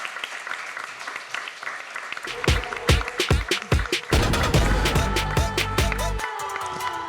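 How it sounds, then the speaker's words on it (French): An audience at a French school awards ceremony breaks into applause after a pitch session, with scattered claps swelling into dense, sustained clapping that stays loud to the end. "Vous pouvez repartir sous les applaudissements nombreux et nourris."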